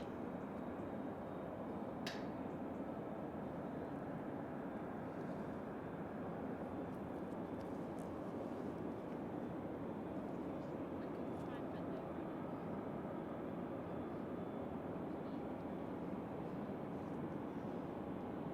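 A Boeing 787 Dreamliner taxis and turns on the runway, heard as a steady, distant, broadband engine roar that holds even throughout, with a brief sharp click near the start.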